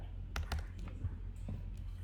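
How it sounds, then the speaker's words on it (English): Computer keyboard typing during a coding session, a few scattered key clicks at low level over a steady background hum. "If I start typing"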